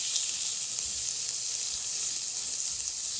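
Onions fry in oil in a pan, a steady, even hiss of close sizzling that runs unbroken with no talking.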